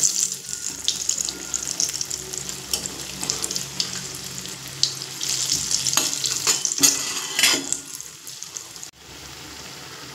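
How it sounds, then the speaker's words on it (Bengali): Papaya fritters frying in oil are being turned over in the pan. A continuous sizzle is heard with intermittent clatter and splashy bursts as the pieces are flipped. "দেখুন বড়াগুলো এক পিঠ আমার ভাজা হয়ে গেছে। এবার উল্টে দেব।"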